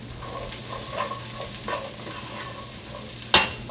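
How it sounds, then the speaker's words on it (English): Asparagus sautéing in a pan, with a steady sizzle and occasional scraping stirs, then a sharp clank of a utensil near the end. No voices. "And I'm going to saute them a little bit."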